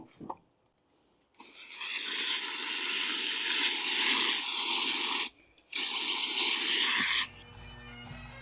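Water gushes loudly and steadily into a bucket, stops briefly, then pours again before cutting off.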